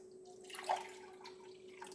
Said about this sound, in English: So I'm going to use about 3 cups of water